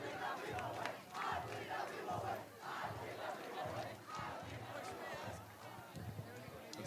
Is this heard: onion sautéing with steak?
no